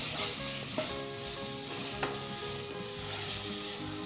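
Tomatoes sizzle steadily in a hot pan while Lahori chana and urad dal is cooked, a continuous close frying hiss with a few light stirring knocks and no talking.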